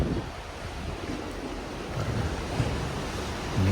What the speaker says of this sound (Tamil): இன்றைக்கி வந்து ரொம்ப அலையாக இருக்குது மேலெல்லாம் தண்ணி வந்து அடிக்குது பாருங்கள்